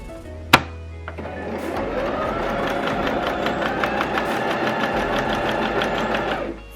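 A sewing machine stitches fabric for an XL scrunchie, opening with a sharp click, then a rapid, even mechanical whirr of needle strokes running steadily for several seconds before stopping.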